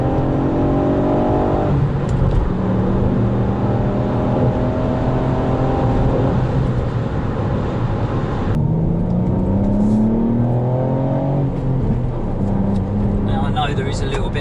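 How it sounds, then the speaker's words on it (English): A Ford Fiesta ST Mk8 with a three-cylinder engine revs hard on a B-road, its pitch repeatedly climbing through the gears with short dips at each shift, loud and continuous from inside the cabin. "What you're hearing is genuinely the car's engine"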